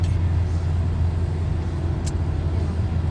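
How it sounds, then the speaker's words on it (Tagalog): Steady road traffic on a mountain route in Italy, with a continuous low rumble of passing cars and a bus-like engine drone heard from nearby, and no voices. "Medyo traffic yata ngayon."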